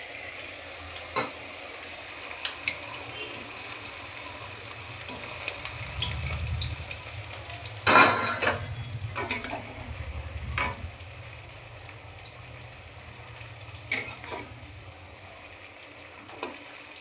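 Vegetable Manchurian balls fry in hot oil, a soft steady sizzle with a brief louder crackle and splash as more balls drop in, plus a few light clinks of utensils.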